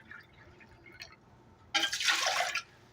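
One and a half cups of warm water poured into a bread machine pan, a brief close splashing gush lasting under a second after a few faint clicks and taps.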